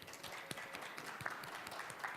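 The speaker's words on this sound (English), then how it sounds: "Can you please give them a very warm round of applause?" Conference audience applauding panelists at a data privacy and cybersecurity panel, fairly quiet scattered clapping with a few distinct sharper claps standing out over a soft wash of hands.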